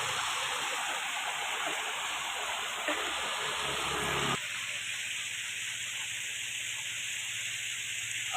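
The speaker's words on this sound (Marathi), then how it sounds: "इथे तर बघा हा छोटासा ते आनंद घेतोय धबधब्याखाली" A small waterfall swollen after heavy rain near Mahad, Raigad, rushes steadily and close by, a dense continuous hiss of falling water that softens slightly partway through.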